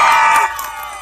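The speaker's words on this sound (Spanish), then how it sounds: "Fíjate, aplausidito de este lado." A street audience at a clown show in Alameda Central, Mexico City, cheering and shouting in a brief loud burst that drops off quickly.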